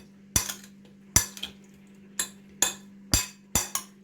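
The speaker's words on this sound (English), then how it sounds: "I'm going to just put my ginger and mix everything together" A utensil clanks sharply against a pan while garlic ginger prawn stir fry is mixed, about eight crisp metallic knocks at uneven intervals over a low steady hum.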